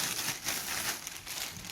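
Plastic bag crinkling while a Corsair K95 RGB Platinum mechanical keyboard is unboxed; soft, close rustling and crackling runs steadily through the moment with no talk.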